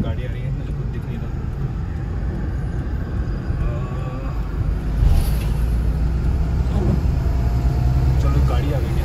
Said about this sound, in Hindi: सामने से गाड़ी आ रही है, मुझे कुछ दिख नहीं रहा।